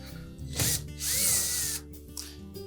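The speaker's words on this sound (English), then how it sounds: "So we'll go to the back of the cabinet and reinstall those screws" A power drill driving screws back into the rear of a Samsung dryer cabinet, two short whirring bursts with a rising pitch, close and fairly loud, separated by brief quiet.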